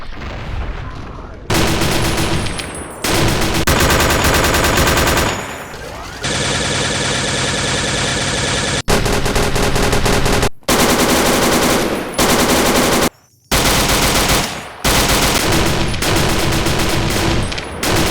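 Modded weapons in Fallout New Vegas fire with very loud sound. Long, dense automatic bursts and rapid gunshots come in several blocks separated by brief silences, heavy and booming.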